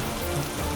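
Heavy rain pours steadily in a dense, even hiss with no pauses, filling the short stretch at a constant loudness.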